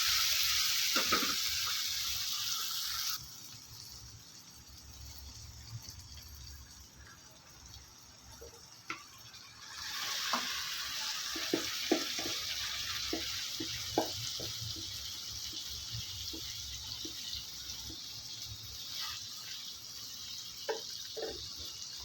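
Chicken stir-fried in oil with softened tomato, pepper chicken fry style, sizzling steadily up close with scattered scraping stir strokes; the hiss drops for a stretch, then returns loud alongside a brief watery trickle, no talking.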